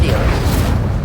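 Incendio fire spell cast in Hogwarts Legacy: a loud, dense low roaring burst of flame that fills the whole second, with a voice speaking over it.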